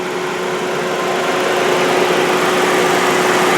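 A 2005 Dodge Neon SXT engine idles close and loud, a steady, even hum that holds throughout with no voices.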